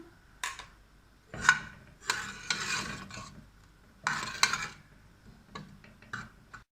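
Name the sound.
ginger garlic paste sautéing in mustard oil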